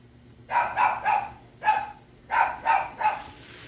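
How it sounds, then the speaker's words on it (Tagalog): A dog barks in two quick bursts of sharp, clear barks, three then one, then three more, fairly close with a quiet background. "Yung aso nila maingay."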